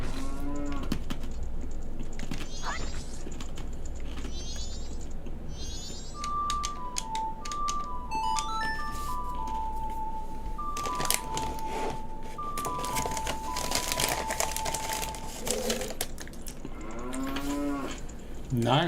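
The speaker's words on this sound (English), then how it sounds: "The cow." A cow in the video game Zelda: Majora's Mask moos loudly several times, the calls rising and falling across the stretch over steady game background sound and a melodic tune.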